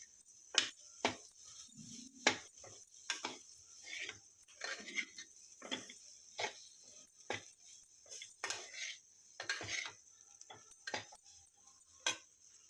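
A spoon scrapes and taps against a pan while beans poriyal with coconut is stirred, a steady series of sharp clinks every second or so over a constant high hiss.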